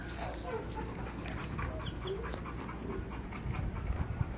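A dog panting steadily and fairly close, with faint whimpering and shuffling noise in a busy background.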